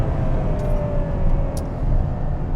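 A Ferrari Purosangue engine drones loudly and steadily from close by, with a faint rising whine running through the continuous roar and no voices over it.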